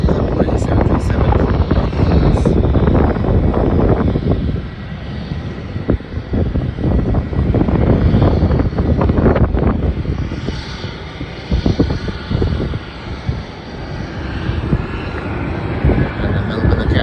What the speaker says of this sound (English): Just Melbourne Sunshine Coast flight is taking off now at